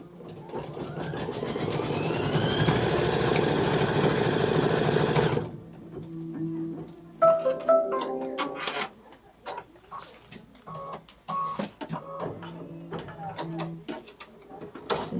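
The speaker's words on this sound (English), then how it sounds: "We're sewing color stop 6." An embroidery machine stitches a color stop, a steady loud rapid needle clatter for about five seconds, then stops and gives way to scattered clicks and light handling sounds.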